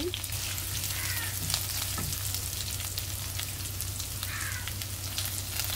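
Minced garlic, ginger and cumin sizzling in hot oil in a pan, a steady close crackling fry with scattered pops and a few light stirring scrapes, continuous and moderately quiet.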